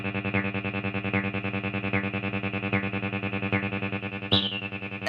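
A Behringer TD-3 synth loops a short, gritty, distorted bass pattern with an accent on its first step, repeating evenly and steadily with no talk over it.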